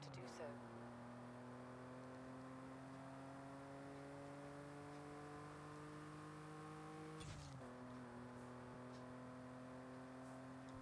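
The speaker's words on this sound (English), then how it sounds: "The sound of this engine is nice." A 2003 Volkswagen Golf R32 engine drones steadily while driving, its pitch climbing slowly and then dropping sharply at a gear change before rising again, loud and close throughout.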